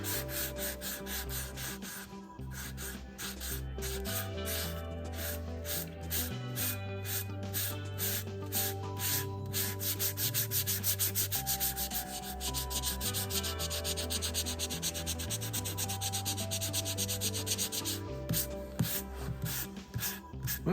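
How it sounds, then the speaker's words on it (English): Close, steady hand sanding of a mistreated wooden shotgun stock near the grip, with rhythmic back-and-forth rasping strokes running nonstop for about twenty seconds over a low, shifting tonal drone and no talking. "I know y'all don't want to see me sitting here sanding."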